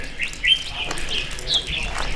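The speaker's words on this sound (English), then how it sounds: "listening to the birds" Birds singing around a mountain Taoist temple in China, a few clear bright chirps and tweets repeating over a soft outdoor background.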